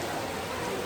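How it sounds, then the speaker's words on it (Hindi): Heavy rain pours steadily during a trek to Bhairav Baba near Vaishno Devi, a dense, even hiss with no pauses, filling the short moment loudly and close. "काफ़ी बारिश हो रही है"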